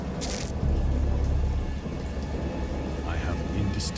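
Thunderstorm in the horror game Dagon, based on the Lovecraft story: steady heavy rain with a low rumble of thunder running through, loud and continuous, with brief brighter crackles near the start and end.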